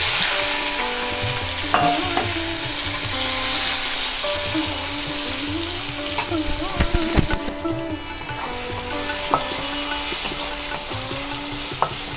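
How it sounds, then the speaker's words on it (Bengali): Cumin seeds and bay leaves sizzle in hot oil as the tempering for a katla fish curry. The hiss is loud, steady and close, with clinks and scrapes from stirring throughout. "ফোড়নে দিচ্ছি জিরে আর তেজপাতা।"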